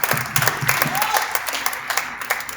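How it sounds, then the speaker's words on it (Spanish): Applause at a book presentation for students of an autobiography workshop: brisk clapping from a small audience with a few distinct claps standing out, heard under a voice speaking briefly. "Les damos un aplauso fuerte y los agradecemos mucho."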